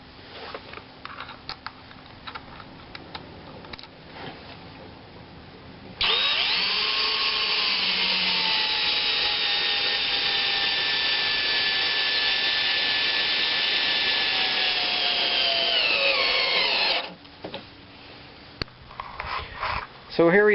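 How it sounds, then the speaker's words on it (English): An 18-volt DeWalt cordless drill drives a lag bolt into a wooden raised bed frame, a steady high whine lasting about ten seconds with pitch shifts under load, framed by quieter handling noises before and after. "I screwed all the corner lag bolts in with my 18-volt DeWalt drill"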